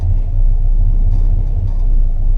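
A truck engine with a three-on-the-tree column shifter idles in a loud, low rumble close by while the clutch is let out partway, the steady throb sagging slightly as it takes up the load.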